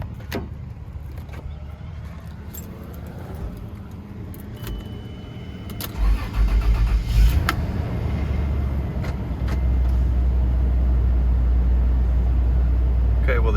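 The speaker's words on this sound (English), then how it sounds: "Hopefully this thing cranks." A Toyota Land Cruiser 80 being repaired for check engine codes cranks and then starts, the low engine rumble rising and settling into a steady idle close by after some clicks and clatter.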